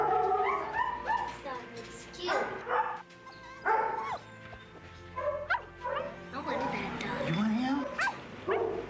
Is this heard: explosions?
no